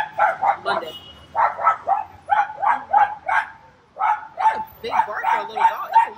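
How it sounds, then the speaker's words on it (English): A small dog barks in rapid, sharp bursts, about a dozen close, loud yaps in two runs separated by a brief pause. "Big bark for a little dog."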